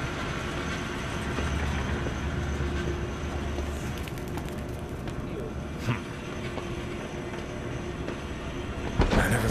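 A train rolls through the zoo in the video game Zoochosis, a continuous low rumble and rattle of wheels with occasional clanks, ending in a sharp metallic jolt.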